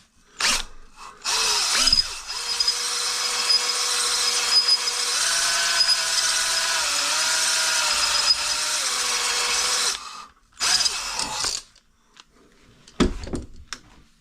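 A handheld power tool grinding inside a motorcycle engine case, a loud sustained whine that shifts pitch for about eight seconds, then short bursts and a clatter after it stops.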